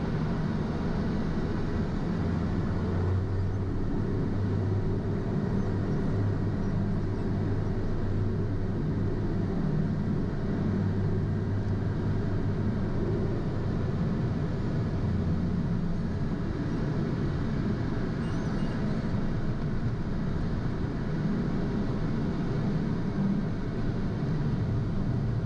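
A Pilatus PC-12 turboprop rolls down runway 10 for takeoff, a steady loud engine and propeller roar with a low rumble heard from inside the aircraft, unbroken throughout.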